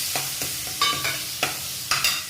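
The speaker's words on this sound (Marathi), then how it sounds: "आता मिरच्या चांगल्या परतून झाल्या की मग आपण कांदा टाकूया याच्यावर" Chopped green chilies sizzle steadily in a hot pan while a spoon scrapes and stirs in regular strokes, close and clear with no voices.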